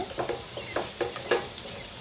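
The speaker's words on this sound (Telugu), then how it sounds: "ఆనియన్ సగం వేగిన తర్వాత ఇలా వెల్లుల్లి వేసుకోవాలి. దంచిన వెల్లుల్లి వేసుకోవాలండి." Onion and crushed garlic frying in a pan for a raw mango dal, giving a steady close sizzle with a few brief stirring scrapes and no talking.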